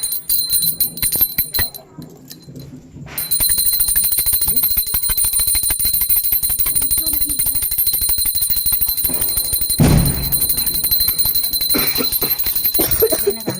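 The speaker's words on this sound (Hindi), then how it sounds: "घंटी बजाना पागल। ऐसे घंटी बजाना।" A hand bell rings rapidly and continuously in a high, shrill jingle during a Diwali night aarti, close by, with voices talking and a thud partway through.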